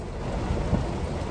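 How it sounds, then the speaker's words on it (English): Heavy rain pouring down in a steady loud roar, with a deep rumble of thunder beneath it and no voices. "it is freaking pouring, raining, and I'm soaked"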